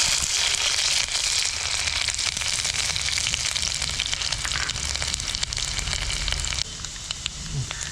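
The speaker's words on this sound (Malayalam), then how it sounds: "ഉലുവ പൊട്ടിക്കഴിഞ്ഞാൽ നമുക്ക് കുറച്ച് ഇഞ്ചി വെളുത്തുള്ളി അരിഞ്ഞ് ഇട്ട് കൊടുക്കാം." Chopped ginger and garlic frying in hot oil with fenugreek seeds, a dense close sizzle with crackling pops that runs continuously and eases slightly near the end, no voices.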